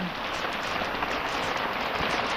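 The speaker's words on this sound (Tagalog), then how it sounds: "lakas po ng ulan" Heavy rain falls in a forest, a dense continuous hiss of drops pattering on leaves and the ground, steady and enveloping.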